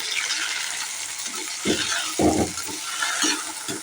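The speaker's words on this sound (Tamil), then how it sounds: "இப்போ இந்த அளவு வரவும் நம்ம இந்த புதினா இலைகளை இதில் சேர்த்துக்கலாம்." Mint leaves for chutney go into a hot pan and sizzle and sauté, with soft frying hiss and a few brief stirring scrapes, fairly close and without talk.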